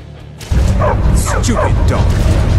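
Dogs barking and yipping in the video game Skyrim, a run of sharp, fairly loud barks starting about half a second in over constant game background noise.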